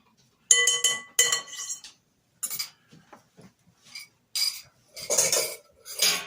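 Eggs beaten in a bowl with a utensil, several short bursts of rapid metallic clinking against the bowl separated by pauses, close and fairly loud.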